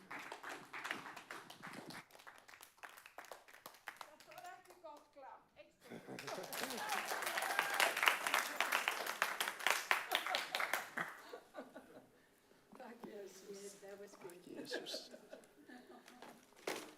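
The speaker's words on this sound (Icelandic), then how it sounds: "Gefum honum gott klapp." Applause from a church congregation swells in the middle, a burst of dense clapping between stretches of speech and murmuring.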